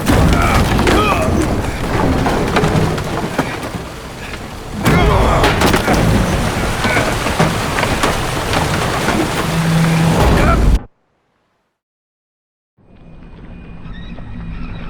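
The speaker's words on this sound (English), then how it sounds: "Didn't bargain for no storm." Storm at sea aboard a boat in the video game The Witcher 3: loud, continuous roaring wind and crashing waves with heavy booms, cutting to silence before quieter ambience returns.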